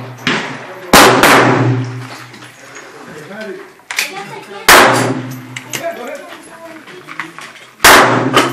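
Rapid-fire gunshots at a target, four sharp loud cracks spaced a few seconds apart, each with a short echoing tail, and people talking between the shots.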